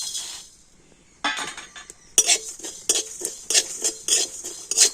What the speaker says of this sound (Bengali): তো মশলাগুলোকে একটু হালকা করে ভেজে নেব।